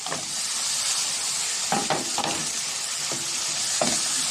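Shrimp casserole sauce sizzles and fries steadily in a pan as peppers go in, a constant bright hiss with a few soft clinks and stirring knocks on top.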